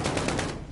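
A short, rapid burst of automatic gunfire in Call of Duty: Warzone, several quick shots in under a second, fairly close and sharp before trailing off.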